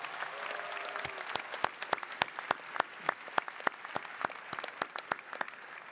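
Applause for graduating Master of Science in Information Security, Policy and Management students at a college hooding ceremony, sparse, distinct claps from a modest number of hands, fairly faint and echoing in a large hall.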